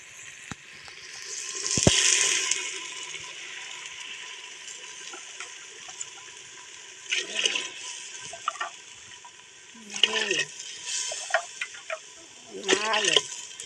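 Water is poured into a pot of rice and lentils for cooking, a short splashing gush early on that settles into a faint trickle, followed by someone talking.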